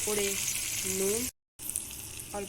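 Chopped capsicum frying in a pan for spicy chilli chicken, a steady close sizzle with brief stirring scrapes, broken by a short silent gap before the sizzle resumes.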